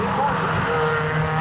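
Race cars at Brands Hatch braking hard into Paddock Hill bend, engines dropping in pitch with a sustained, loud, steady roar and faint tire squeal, under a commentator's voice.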